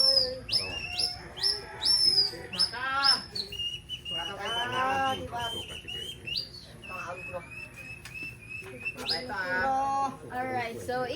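A Palawan tribesman mimics bird calls in a village setting, producing a series of close, loud whistled chirps and warbling calls in short bursts with pauses between them.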